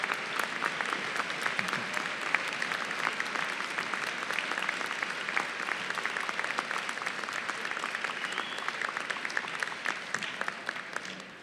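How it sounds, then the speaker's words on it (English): Sustained applause from a large commencement audience honoring family members, a dense wash of clapping that stays even and fairly distant for the full stretch. "I want you to applaud your family members who are here today."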